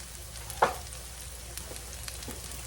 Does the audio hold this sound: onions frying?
yes